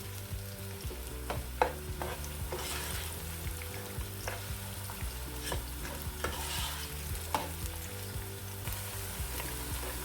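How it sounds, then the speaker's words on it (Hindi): Onions frying lightly in a pan for a potato and egg curry, producing a soft, continuous sizzle with intermittent scrapes and taps from stirring, fairly faint and close, with no talking. "बस हल्का सा हम इसको 1-2 मिनट के लिए बस फ्राई करेंगे"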